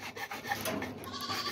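A goat bleats during horn trimming, with its calls and handling noise close and steady over a rasping background, and no talk.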